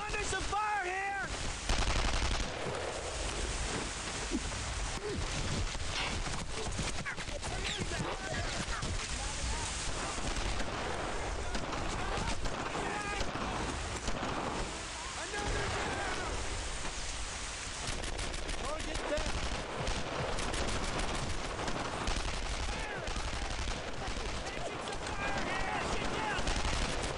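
Sustained gunfire from the World War II shooter Brothers in Arms: Earned in Blood, a dense continuous battle din of rifle and machine-gun fire with rain-like noise, loud throughout as a voice shouts over it.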